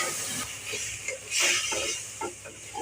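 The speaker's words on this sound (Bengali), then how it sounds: "এবার জল দিচ্ছি।" Water is poured into a pan of hot fried spices for a fish curry with potato and eggplant. It gives a sharp, sustained steam hiss that swells briefly in the middle, with no talk.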